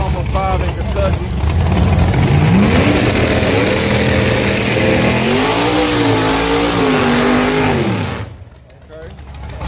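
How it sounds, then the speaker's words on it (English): A race car does a burnout at Extreme Raceway Park, its engine revving loudly and continuously with pitch rising and falling in waves before dropping off abruptly near the end. "We did a good burnout."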